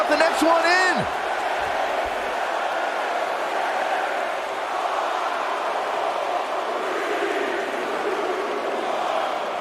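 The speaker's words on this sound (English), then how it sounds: "Listen to this crowd count the next one in." A virtual arena crowd at WrestleMania 37 in the WWE 2K21 video game gives off a continuous, dense roar, with a high whoop rising briefly at the start.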